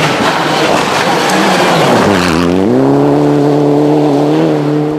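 A rally car in the 2006 Production World Rally Championship Australia, likely a Subaru, drives loudly and close through a tight tree-lined stage, its engine note falling and then settling into a steady drone.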